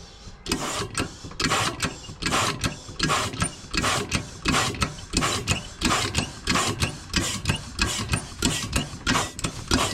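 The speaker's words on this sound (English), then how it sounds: "that's a small diaphragm pump there, and we just pump that by hand to fill the suction line with water" A small hand-operated diaphragm pump is worked to fill the suction line of a non-self-priming centrifugal irrigation pump, giving a fast, steady series of close mechanical clacks and gurgling strokes for the full ten seconds.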